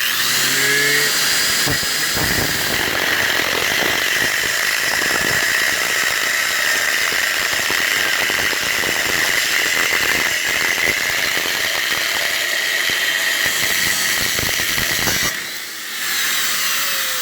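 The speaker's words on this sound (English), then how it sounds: "line up the blade with the flat top of the vise there. Helps kind of keep me in line and gives me a nice clean cut" A saw blade cuts through a metal piece clamped in a vise for a motorcycle GPS mount, a harsh continuous rasping and hissing that holds loud and close for about fifteen seconds, then stops.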